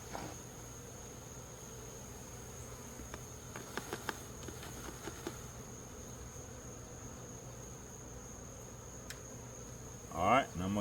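Honey bees drone steadily at an open hive while a beekeeper hunts for the queen and gathers a 300-bee sample; the dense, even buzz holds low and continuous throughout, with a few brief knocks and a louder rustle near the end.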